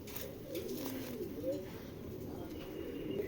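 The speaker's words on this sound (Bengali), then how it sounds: "বিশাল সাইজের কবুতর দুইটা ভাই, অনেক বড়।" Large pigeons cooing at close range, low throaty coos repeating in soft rolling phrases over a quiet background.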